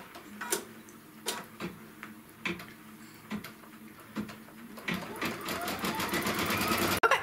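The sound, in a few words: embroidery machine stitching an edge-to-edge quilting design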